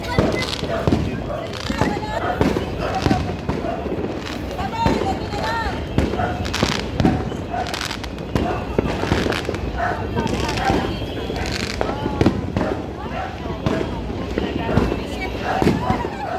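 New Year fireworks crackling and popping continuously and loudly, with dense bursts of firecracker bangs while people shout and talk excitedly throughout.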